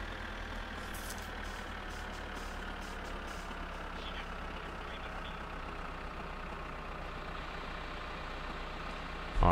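Car engine in the game My Summer Car, a steady low idle rumble running evenly throughout, close and continuous, with no talk over it.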